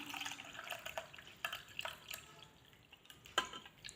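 Water poured into a bowl during home cooking, heard as a series of light splashes and drips, close and fairly quiet, with a brief louder splash near the end.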